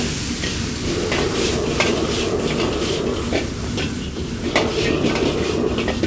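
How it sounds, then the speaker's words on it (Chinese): Cured pork stir-fries in a little melted oil over low heat, a dense, steady sizzle close by with occasional scrapes and taps of a spatula in the wok, and no talk. "油化開了之後放上去煸一下，小火給它煸一下，煸香"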